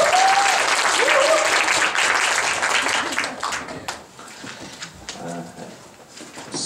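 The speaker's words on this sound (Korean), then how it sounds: "조교 한번 박수 쳐줘요" A room of people at a Korean church worship gathering applauds the teaching assistant, a loud burst of clapping that fades out after about three seconds, followed by quieter murmuring and movement.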